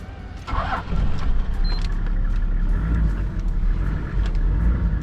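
Toyota Land Cruiser 105 engine cranks and catches, then settles into a steady, close, loud idle with a deep low rumble for several seconds; no talking.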